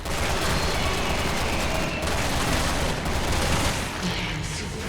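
Gunfire from Resident Evil 6, a dense, continuous burst of loud, close shots that blur together over roughly five seconds with little pause.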